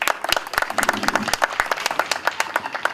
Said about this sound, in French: Et encore des applaudissements pour Maître Nassor qui vient d'arriver,